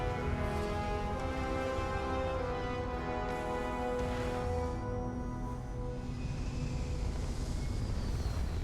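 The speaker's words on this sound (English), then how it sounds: "All thrusters firing." Spaceship thrusters firing in Starfield, a steady, loud, broadband roar with a low rumble and sustained tonal hum that holds throughout without pause.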